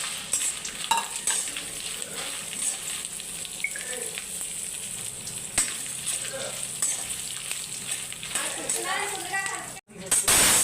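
Dried red chillies frying in oil in a pan for gongura pickle, a bright continuous sizzle with scraping stirs and spatula clinks, a voice talking over it, and a brief cut near the end.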